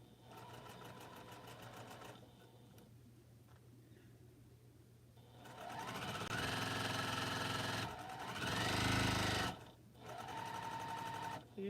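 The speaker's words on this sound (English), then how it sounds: "we're going to sew it and then I'll figure that part out at some later point in time" A sewing machine stitches through a quilt, running at a steady hum that speeds up into a louder, denser whir partway through, with brief pauses between bursts.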